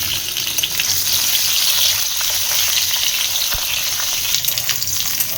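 Potatoes frying in oil in a pan at home after fish has been fried, a loud, steady hiss of sizzling close up, with a single faint clunk midway and no voices.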